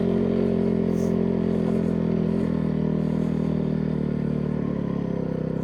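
A 2002 Honda CRF450R dirt bike fitted with a snow kit rides over ice and snow with no working clutch. Its engine drones steadily and loudly with a rattling clatter, heard close up without talk.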